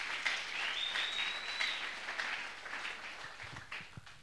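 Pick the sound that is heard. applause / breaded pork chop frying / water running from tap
applause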